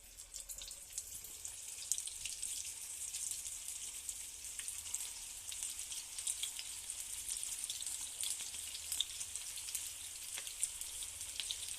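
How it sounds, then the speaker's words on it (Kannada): Paneer kofta balls frying in hot oil give a steady, close sizzle with fine crackling pops that runs without a break, with no voices. "ಚೆನ್ನಾಗಿ ಫ್ರೈ ಆಗಬೇಕ್ರಿ"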